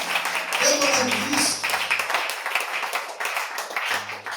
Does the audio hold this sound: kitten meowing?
no